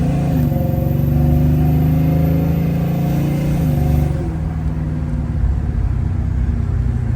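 A 1978 Oldsmobile Cutlass V8 accelerating, a loud steady engine drone heard from inside the car with rising and shifting tones as it pulls away, no talk over it.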